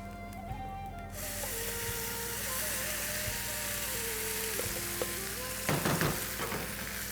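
Asafoetida and curry leaves fry in hot oil for South Indian ven pongal, giving a bright continuous sizzle that swells as the rice and lentil mix goes in, with a few scraping stirs near the end.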